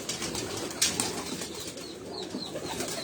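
Breeder pigeons at a rooftop loft flutter and shift about, with a sharp burst of wing flapping close by early on, then softer rustling and faint coos over a steady background.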